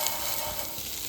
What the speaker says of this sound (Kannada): ಈಗ ಇವೆಲ್ಲ ಫ್ರೆಂಚ್ ಫ್ರೈಸ್ ಮಿಕ್ಸ್ ಮಾಡ್ಕೊತೀನಿ.